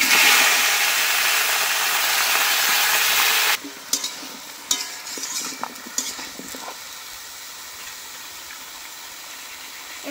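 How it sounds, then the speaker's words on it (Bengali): Bottle gourd pieces go into a pan where five-spice has been frying, a loud dense sizzle for about three and a half seconds that drops suddenly to quieter hissing with scattered stirring clicks and scrapes. "লাল লাল করে ভেজে নিয়েছি, এবার লাউগুলো এর মধ্যে দিয়ে দেব।"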